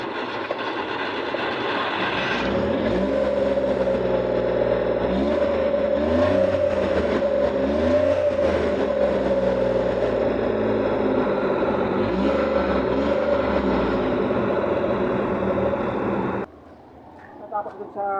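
Loud, steady car engine with a suspected blown head gasket running close by, a low mechanical drone with a rising whine, stopping abruptly near the end.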